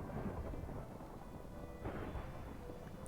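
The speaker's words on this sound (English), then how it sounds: "I didn't know it was possible to have that much thunder." Deep thunder rolls and rumbles through a Minecraft thunderstorm over constant rainfall, with a louder crash near the end and no talking.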